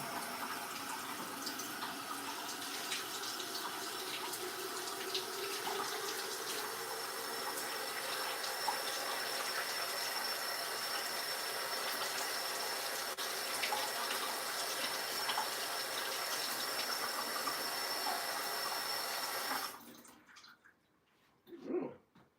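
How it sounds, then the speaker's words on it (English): Tumbled rocks rinsed under running tap water: a steady, loud rush of water pours continuously for about twenty seconds, then cuts off abruptly, leaving a few faint knocks. "I'm going to go ahead and rinse these rocks"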